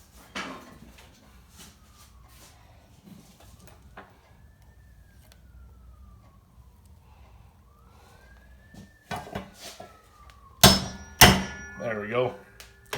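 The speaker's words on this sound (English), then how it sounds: "I'm gonna have to use a hammer to pop this other valve out because it's squeezed up in there." A hammer taps a stuck intake valve out of a lawnmower engine, giving several sharp metallic knocks, sparse at first and then clustered loudly near the end, with a voice speaking in between and faint tonal squeaks.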